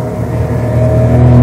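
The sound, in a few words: car engine revving at 6000 rpm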